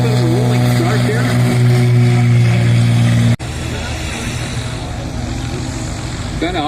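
A Cessna 206 propeller airplane makes a short takeoff of about 200 feet at a STOL event, its engine droning loud and steady and then shifting abruptly partway through, with voices talking over it.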